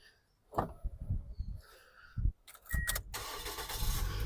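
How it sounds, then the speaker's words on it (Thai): A few clicks and clunks, then the engine of a 2004 Toyota Vios 1.5 E cranks and catches on the first try, settling into a steady running rumble close by. "เดี๋ยวเราไปดูในส่วนห้องเครื่องแล้วฟังเสียงเครื่องยนต์กันบ้างนะครับผม"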